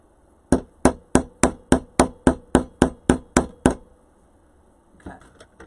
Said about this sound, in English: Let me hammer these in.